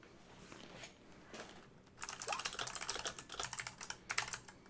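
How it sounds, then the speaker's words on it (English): Someone types on a computer keyboard: soft, scattered taps at first, then a quick, busy run of clacking keystrokes, heard faintly with no talk over it. "Dragon's typing."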